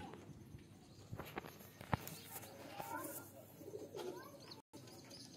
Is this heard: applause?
no